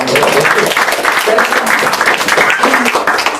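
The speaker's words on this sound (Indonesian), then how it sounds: "Berikan tepuk tangan." A church congregation applauds steadily at a sermon, a dense, loud, even wash of clapping sustained throughout, with voices faintly mixed underneath.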